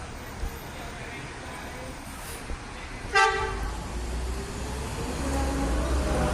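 Buses move out of a busy Indonesian bus terminal amid traffic rumble, with a sharp horn toot near the middle and engine noise building toward the end, while people talk.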